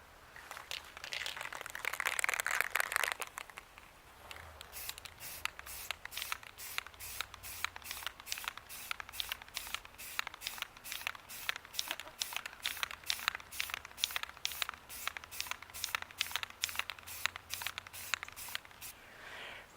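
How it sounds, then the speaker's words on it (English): Aerosol spray can misting clear coat onto a DIY Star Wars Darth Revan mask: a steady hiss opening the clip, then a long run of short, rhythmic spray bursts, fairly close and alone without talk. "Remember to keep the appropriate distance away while spraying, which is about a foot, so that way you get a nice even coating."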